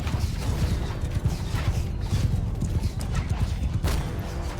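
Horse hooves clatter in a fast, continuous rhythm during a field battle in Mount & Blade 2 Bannerlord, with occasional crashes and clanks in a dense mix.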